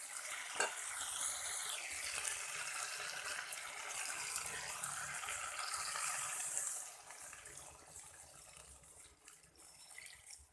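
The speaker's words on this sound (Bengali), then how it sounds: "এবার আমি এতে জল দিয়ে দেবো।" Water poured into a pan of tilapia curry with cauliflower and potato, a steady bright splashing and hiss for about seven seconds that then eases into a softer simmering sizzle, close and alone.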